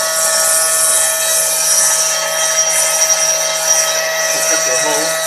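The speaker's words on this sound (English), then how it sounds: "mill the hexagonal recess here" CNC router with a high Z axis milling a hexagonal recess in steel, giving a steady high-pitched whine and cutting hiss with tonal hum, loud and continuous, with brief muffled talk near the end.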